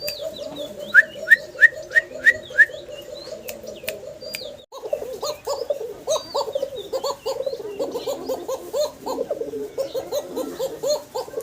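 Repeated low, throaty cooing pulses from pigeons run steadily through the clip, with sharp chirps and whistles from other birds early on and some background activity later.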